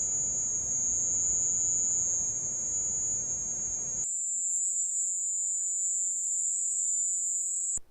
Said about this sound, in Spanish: este ruido común es muy parecido al ruido de una cigarra